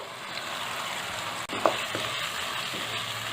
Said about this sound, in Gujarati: હવે આપણે તેની અંદર ઝીણા સમારેલા ટમેટા ઉમેરી દઈશું.